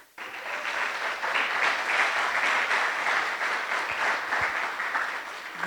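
A church congregation applauds for Jesus during a Spanish-language sermon, a broad, steady wash of many clapping hands that starts abruptly and holds loud and even to the end.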